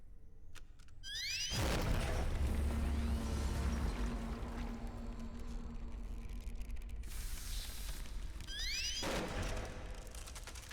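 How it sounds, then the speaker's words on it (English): A slug gun blasting at an airlock in the game Stasis: a sudden loud boom swells into a sustained rushing, spraying roar for several seconds, ending with a whining mechanical sweep, and no one speaks. "I need to indeed use this slug gun on the airlock"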